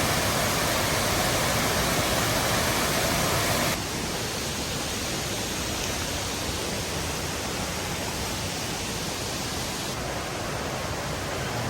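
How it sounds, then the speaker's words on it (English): A creek flowing steadily, a dense continuous rush of water heard up close and fairly loud, with no voices over it. "technically it's not a river, it's a creek"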